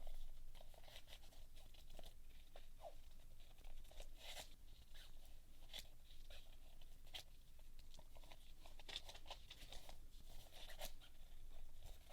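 Scissors snip steadily through paper, cutting out circles in a run of soft, close crunching and rustling strokes with a few sharper cuts, quiet and without talk.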